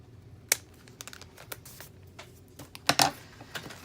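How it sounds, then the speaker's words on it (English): Scissors snip and trim a decorated paper page in a December scrapbook journal, heard as scattered, quiet, crisp snips and crinkles close by with a couple of sharper clips near the end; no talking. "Get my scissors,"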